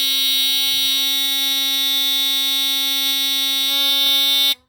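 A GE Home Sentry model 8201 smoke alarm sounds during a test, giving a loud, steady, piercing electronic tone that holds unbroken for several seconds and then cuts off abruptly.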